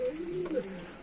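Adult Punjabi Malwai pigeons, a long-flying breed, coo in soft, throaty, rolling murmurs, close and moderately loud and continuous for about a second.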